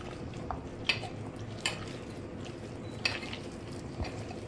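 Rice flour mixture being worked together by hand in a kitchen, giving a soft, continuous stirring rustle with a few faint clinks of a utensil against the bowl.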